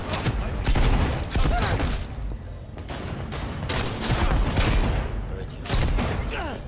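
Shotgun gunfire in the video game Cyberpunk 2077, with heavy booming blasts repeating roughly every second over a busy, loud game soundscape.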